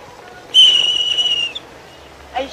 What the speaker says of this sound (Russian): Вот свисток у вас.